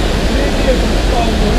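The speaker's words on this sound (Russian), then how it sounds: "Ё-моё, водопад." Loud, steady roar of a waterfall heard during a long motorcycle journey, with one brief spoken word over it.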